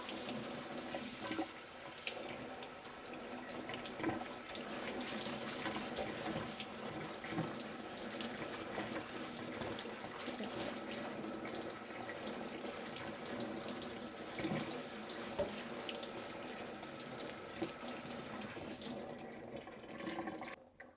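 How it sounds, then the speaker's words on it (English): Kitchen tap water running steadily into a bowl while rice is rinsed for Chinese-style chicken, a continuous close splashing flow with shifting wash sounds, no voices. "Then they want us to rinse the rice until it's clear."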